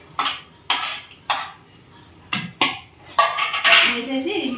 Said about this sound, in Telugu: వేసేసి మొత్తం బెల్లం అంతా కరిగే వరకు ఇదిగోండి ఇలా కలుపుకోవాలి.